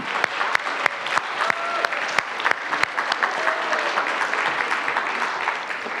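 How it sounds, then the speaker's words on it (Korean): A church congregation applauds its teachers during a Sunday worship service after vacation Bible school, with loud, scattered hand claps over a steady bed of crowd clapping filling the room. "우리 수고하신 선생님들을 위해서도 박수."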